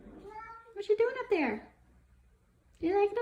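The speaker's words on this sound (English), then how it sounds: "if you hear my cat in the background," A pet cat meows several times, close and loud, with drawn-out rising calls answered by someone talking to it between the meows.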